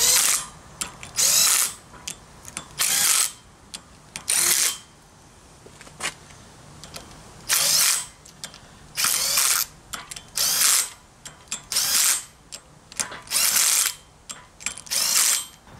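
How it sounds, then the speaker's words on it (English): A small impact wrench runs down bolts on a Jeep Wrangler YJ Dana 30 axle during ring and pinion work, in loud repeated rattling bursts of a second or so, separated by short pauses, with no talking. "And now I'm going to take my little impact and just run down to the touch."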